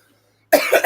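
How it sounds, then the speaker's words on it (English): A single harsh, loud cough bursts out close to the microphone after silence, brief and raspy with a couple of quick pulses. "Them coughs hurt like a motherfucker."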